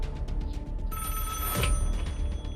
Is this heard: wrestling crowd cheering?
no